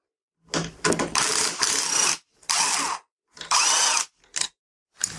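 A ratchet wrench loosens 12 mm bolts on the front forks and head of a motorcycle during a fork removal job, with close, loud bursts of clicking separated by short pauses.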